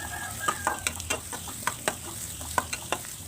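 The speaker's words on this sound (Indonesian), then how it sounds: "ditumis bawang merah dan juga bawang putih yang udah diiris-iris tadi" Sliced shallots and garlic stir-fry in hot oil for an Indonesian vegetable dish, a close steady sizzle broken by sharp scrapes and clacks of the spatula against the pan at an uneven rhythm.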